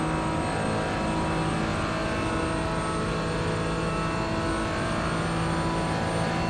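Racing car engine in top gear in a racing video game, a loud, steady, high-pitched drone holding near constant pitch throughout without pause.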